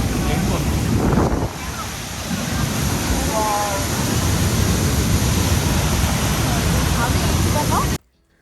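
Niagara Falls roars in a dense, unbroken wall of rushing water, heard from the viewing area near the Cave of the Winds. The loud, even roar continues for about eight seconds and then cuts off abruptly.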